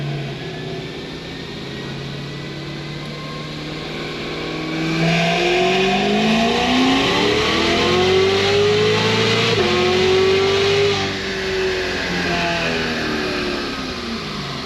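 Cadillac CTS-V accelerating hard through fourth and fifth gear, its engine note climbing steadily and growing louder midway, with a brief shift dip before rising again; a sustained, close mechanical roar with no talking.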